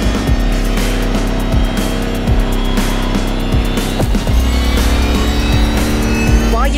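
Lamborghini Terzo Millennio racing flat out in The Crew Motorfest, its engine a loud continuous roar with shifting pitch, brief tire squeals and skids cutting through and no talk.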